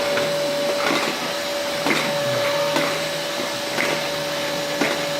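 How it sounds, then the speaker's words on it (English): A toddler pushes a running vacuum cleaner across the floor. Its constant whine holds a steady pitch, and roughly once a second a soft bump or scrape comes as the machine is shoved forward. "Go ahead, Bubby, push it. Vacuum."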